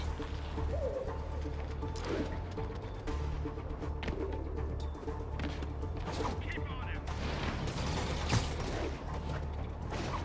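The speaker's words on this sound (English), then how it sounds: "This pigeon knows the city better than I do." A pigeon coos on a city rooftop in the video game Marvel's Spider-Man, soft repeated cooing mixed into a busy bed of ambient city noise, creaks and mechanical sounds.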